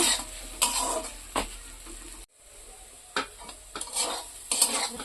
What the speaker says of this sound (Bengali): 2-3 মিনিট এখন নেড়ে নেব।